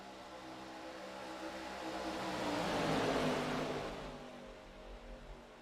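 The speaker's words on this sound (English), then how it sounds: "God, those cars sound just fantastic" Racing cars in the iRacing simulator at Atlanta Motor Speedway, engines swelling as they draw near, peaking loudly, then fading away in a smooth pass-by.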